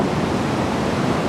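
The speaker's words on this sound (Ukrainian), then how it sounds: "поки Дмитро споглядає на океан згори, у воді бавляться серфінгісти" Ocean surf below a rocky cliff, with surfers in the water, gives a steady, even wash of rushing water at moderate level, with no one speaking.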